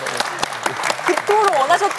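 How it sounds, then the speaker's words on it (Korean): An audience claps at a Korean broadcast ceremony, with dense applause running under a nearby voice that talks throughout and rises toward the end. "박수 좀 쳐주세요"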